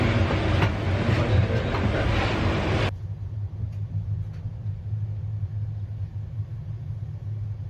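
A train rumbles steadily along the rails, loud at first, then quieter and muffled, with a constant low drone and faint clicks.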